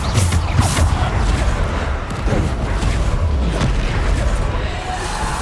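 Descendo spell slamming an enemy down during a Hogwarts Legacy duel: heavy thudding impacts and bursts repeat within a loud, continuous din of spell combat.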